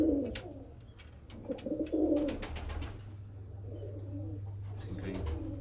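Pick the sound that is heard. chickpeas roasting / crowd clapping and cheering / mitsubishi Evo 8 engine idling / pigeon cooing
pigeon cooing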